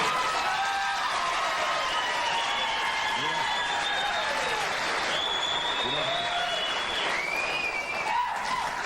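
Studio audience of a late-night television talk show breaks into sustained, loud applause mixed with some cheering and whoops, with faint tonal music running underneath.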